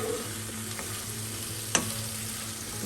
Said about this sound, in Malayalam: ഇതെല്ലാം കൂടെ ഇളക്കി ഫ്ലെയിം ഓഫ് ചെയ്യുക.